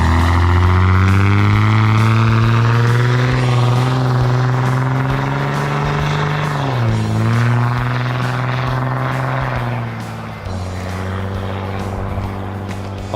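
A Dodge Ram pickup truck with a capped 8-foot bed pulls away, its engine droning loud and steady, rising slightly in pitch and then dropping as it shifts and moves off, with no talking over it.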